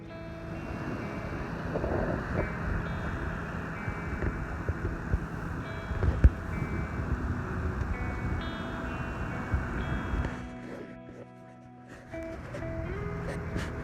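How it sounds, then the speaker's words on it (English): Steady wind rumbles and buffets against the microphone on the Bibbulmun Track between Walpole and Denmark, Western Australia, fairly loud and continuous, dropping briefly near the end before returning. "So it's very windy."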